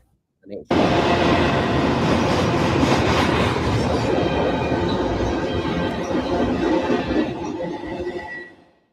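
A BNSF freight train led by Dash 9 locomotives roars past on the Southern Transcon after a brief lead-in, a loud, sustained rumble with rattling cars and wheel noise that fades near the end.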